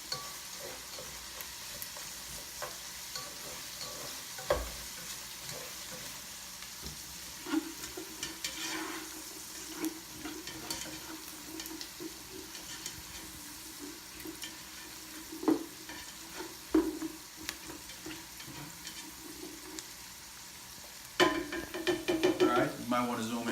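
Garlic gets stirred into sizzling Trinity vegetables for Shrimp Creole in a pot, a low continuous fry hiss with repeated scraping spoon strokes and occasional clanks against the metal, ending in a louder burst of sizzle.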